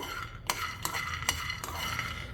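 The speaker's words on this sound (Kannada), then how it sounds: "ಎಲ್ಲ ಕಡಲೆ ಬೀಜನ ಪ್ಯಾನಲ್ಲಿ ಹಾಕ್ಕೊಂಡು ಹುರ್ಕೊಳ್ಳಿ ಲೈಟಾಗಿ" Peanuts are stirred while roasting in a pan, with soft rustling scrapes and four sharp clinks of a utensil against the pan at fairly regular intervals, close and quiet.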